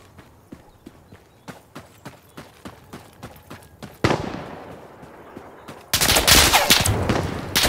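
An MG3 machine gun fires in Insurgency Sandstorm: at first a rhythmic string of evenly spaced distant shots, then two sudden loud bursts of close, sustained automatic fire.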